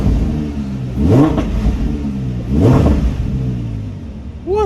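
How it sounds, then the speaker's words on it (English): A Lamborghini Huracán Spyder engine revs hard twice in quick succession, each rise swelling loud and close before falling back, with another rev starting at the end. "I've just revved the car"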